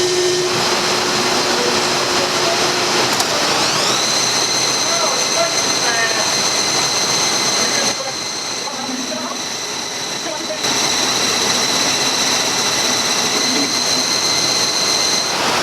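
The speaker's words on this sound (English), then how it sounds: "now we just got to turn this down on the lathe here" A lathe turns down a steel pipe with a loud, continuous whirring drone and a high, steady whine that shifts pitch slightly, then dips briefly before resuming at full strength.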